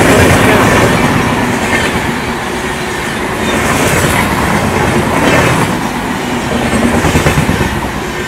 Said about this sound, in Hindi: एक्सप्रेस, काफी गजब की रफ्तार में निकली गोरखपुर यशवंतपुर